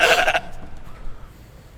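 A sheep bleats in the horror video game Too Well Hidden: one short, loud, close bleat at the start, then only faint background noise.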